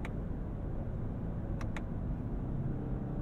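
Cabin of a 2022 Lexus LX 600 SUV driving in manual mode gives a steady low engine and road rumble, constant and moderately loud, with a couple of brief faint clicks.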